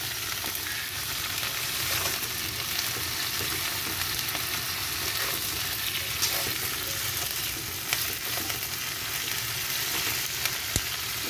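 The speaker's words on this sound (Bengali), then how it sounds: "এটা একটু ভেজে নেব আমি" Capsicum and onion frying in a pan for homemade chilli paneer, a steady close sizzle that runs without a break, with faint stirring scrapes now and then and no talk.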